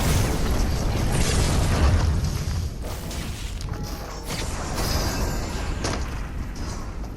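A Black Panther power blast in Fortnite sets off a booming in-game explosion, a loud burst followed by rumbling decay and a few smaller thuds and pops.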